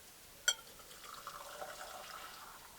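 An herbal coffee alternative poured over a filter into a cup inside a camper van: a faint, soft trickle of liquid lasting a couple of seconds after a brief clink at the start, quiet and close.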